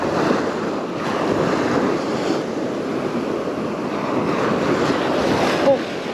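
Ocean surf breaking on a fishing beach in wind: a continuous, loud, rushing roar of waves with gusty wind noise on the microphone and slow swells in intensity throughout.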